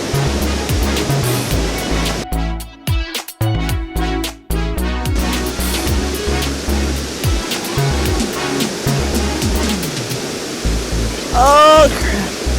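Small waterfall at Inglis Falls in Owen Sound, Ontario, a steady loud rushing roar of falling river water close by, with a person's voice briefly breaking in near the end.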